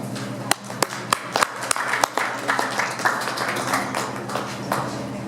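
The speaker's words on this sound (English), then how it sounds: "so please give her a round of applause" Scattered audience applause at a community event on policing, with a few sharp individual claps standing out over a thinner, uneven patter that never builds to a full ovation.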